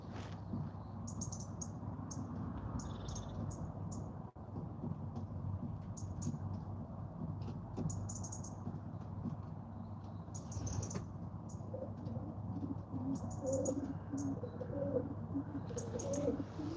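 Young and old pigeons coo softly in a loft with repeated murmuring calls. Higher chirps come in scattered bursts over a steady low hum, and nobody speaks.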